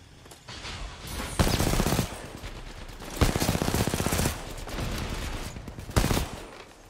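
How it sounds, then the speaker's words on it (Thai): A bot firing a gun wildly in a Wingman match, loud bursts of rapid automatic fire in three main volleys with quieter shots between. "เหมือนบอทมันไม่เห็นแล้วมันยิงมั่วเลยว่ะ"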